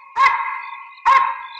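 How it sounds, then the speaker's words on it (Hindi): Dog barking at police, two loud, sharp, near barks about a second apart, each trailing off into a sustained tone, with no talk. "सर, एक कुत्ते पुलिस वालों को देख के क्यों भौंकते हैं?"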